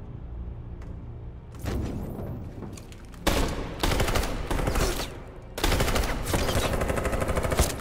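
Sustained automatic gunfire in the video game Detroit: Become Human, loud, dense bursts that grow heavier in waves, with no talk over it.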